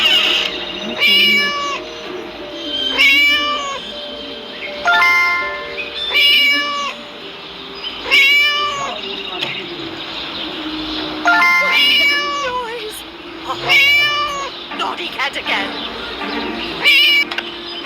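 A cat meows repeatedly in the Scary Teacher video game, making drawn-out, whiny calls at a steady interval over a low background hum, loud and close, with no talk over them.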